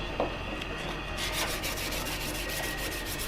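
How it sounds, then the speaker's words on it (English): A plexiglass edge is hand-sanded with 320 grit sandpaper: a close, continuous rasping rub that grows slightly louder and denser partway through, with no talking. "Just 320 sandpaper is all I'm going to use."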